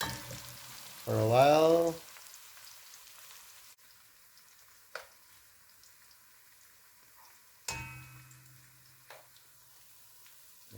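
Spicy Surinamese catfish curry ingredients frying in a pan, a soft steady sizzle running low in the background, with a brief voice near the start and a few faint clicks later.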